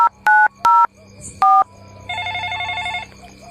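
A phone is dialed in a Gujarati comedy sketch: a few loud, distinct keypad tones in quick succession, then a steady ringback tone carrying on, with faint background noise.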